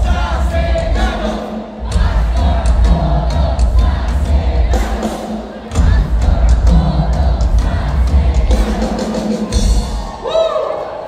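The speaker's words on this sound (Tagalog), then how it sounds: "Palakpakan po natin." A large crowd at a political proclamation rally in the Philippines claps and cheers loudly and continuously, with shouts, whoops and scattered bangs rising and falling throughout.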